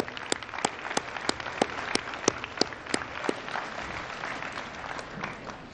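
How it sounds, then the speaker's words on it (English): Audience applause at a hall of fame ceremony for two brothers being honored: a steady wash of clapping with distinct sharp individual claps standing out, moderately loud throughout. "How about a big round of applause?"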